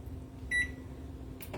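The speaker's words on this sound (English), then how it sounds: "Let's set the timer." A kitchen timer being set while cooking crab-stuffed salmon gives one short, bright electronic beep up close, with a faint tap afterward and no talking.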